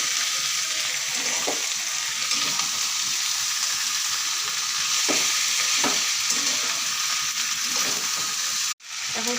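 Onions frying in oil with turmeric, a steady broadband sizzle with occasional stirring scrapes, loud and close, ending in a brief dropout near the end.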